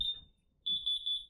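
A home alarm system emitting shrill electronic beeps when armed: one short tone, a pause, then a longer series of piercing pulsed beeps, moderately loud in a quiet room.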